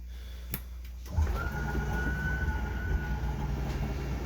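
An RV slide-out motor on a Mesa Ridge 241ORL travel trailer runs steadily after a short click, a continuous mechanical whine and hum lasting several seconds, fairly close and unbroken.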